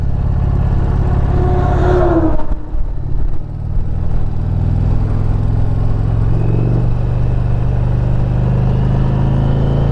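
A 2021 Indian Challenger Limited motorcycle engine pulls hard while riding; a loud, steady exhaust roar and engine drone fill the clip, with a brief dip around a gear shift before the growl builds again, heard close.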